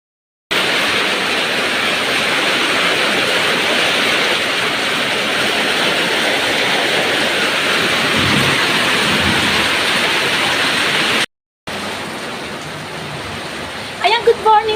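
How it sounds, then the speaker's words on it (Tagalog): Heavy rain pours in a dense, steady roar, with a brief break before the downpour resumes and a few knocks near the end; no voices are heard. "Maliligo po ako sa ulan. Hanggang napakalakas ng ulan"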